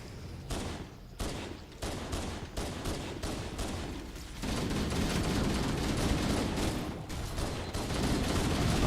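Video game gunfire with shotgun blasts, a string of sharp repeated shots in irregular rhythm, some near and some distant, building into denser continuous firing.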